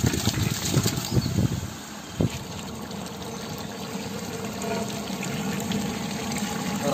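Water poured onto rice in a pot for chicken leg piece dum biryani in a village kitchen, loud splashing at first, then a softer steady trickle and fill sound.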